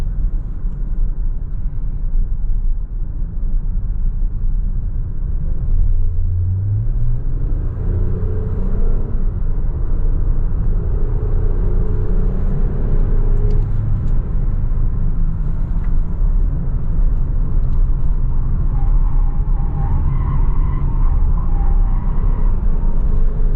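A 2022 Nissan Pathfinder SUV is driven in sport mode during a handling test, giving a steady low engine and road rumble that swells slightly as the engine note climbs, with no talking.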